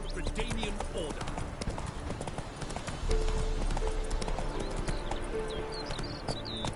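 Hooves of the horse Roach clip-clopping in The Witcher 3, a steady trotting rhythm under ambient game sounds and scattered speech-like voices.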